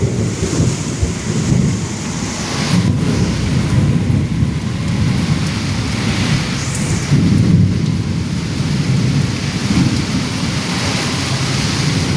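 A thunderstorm rolls over a rooftop terrace with steady heavy rain pattering on surfaces, and deep thunder rumbles swelling loud near the start and again midway, continuous and close, with no talking.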